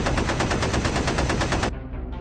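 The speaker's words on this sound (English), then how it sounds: "The Focke-Wulf moves in and fires, but misses." A rapid burst of machine gun fire from a B-17 bomber's top turret in a wartime air combat game, a loud close rattle of evenly spaced shots that stops abruptly near the end.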